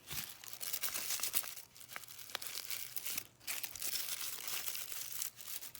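Coffee filter paper is squished and crumpled by hand, a close, soft, continuous crinkling and rustling with no talking.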